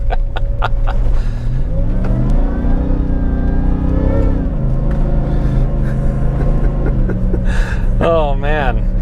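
A Ford Raptor truck drives on a summer road in Utah, its engine droning loudly and close, rising in a rev and then settling; a voice whoops over it at the end.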